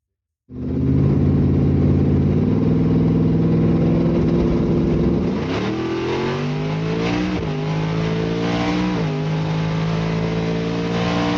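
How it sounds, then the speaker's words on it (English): Car driven down a track, its engine droning loud and close from the interior, holding steady and then shifting pitch as it accelerates, with no talking. "a short clip of me going down the track inside my car"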